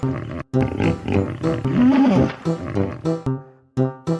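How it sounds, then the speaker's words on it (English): A hippopotamus gives a series of deep, throaty honking calls, loud and close, in repeated bursts with short pauses between them. "The hippo says honk honk."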